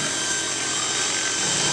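A remote control camera helicopter rig, nicknamed a flying chainsaw, buzzes with a steady, harsh, high-pitched whine that stays loud and constant, with no talk.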